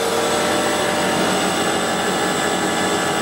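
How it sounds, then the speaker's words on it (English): An extrusion moulding machine driven by a big ABB 10 horsepower motor, turning slowly at about 18 RPM in a workshop, gives a loud, steady, continuous mechanical whine and hum with no pauses. "Big ABB 10 horsepower motor on it, something like that."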